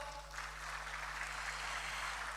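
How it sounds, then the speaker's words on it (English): Sustained applause from a crowd at a Bank of Ghana event, a steady wash of clapping with a low hum underneath. "Please give him a big round of applause."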